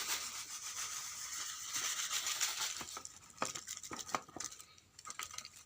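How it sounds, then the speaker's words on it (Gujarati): Dry rubbing and scraping as black, tea-leaf-like fertilizer powder is mixed with sand by hand for a chickpea field, starting as a soft steady hiss and then becoming a series of sharper scrapes, close and fairly quiet. "આ રીતે ઉમેર કરી મિક્સ કરશું અને તેમાં સાથે રેતી ઉમેરશું"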